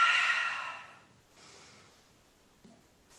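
Slow breathing during a vagus nerve yoga practice, a soft, breathy exhale at the start that fades out, followed by a quieter, gentler breath, close and intimate.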